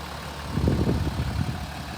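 A 2020 Volkswagen Touareg's 3-litre V6 engine idles nearby with a low, steady rumble and faint rhythmic pulsing, continuous and unaccompanied by speech.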